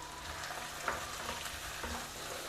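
Broken wheat (Godumai Rava) roasts in a pan for an Indian Khara Bhath breakfast, a soft steady sizzle with gentle stirring scrapes and one light clink, fairly quiet and continuous, no talk.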